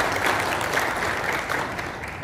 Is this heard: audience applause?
yes